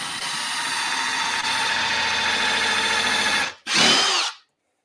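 A power drill bores countersink holes in wood, a loud steady high-pitched whine that stops briefly, then spins up again in a short burst before winding down.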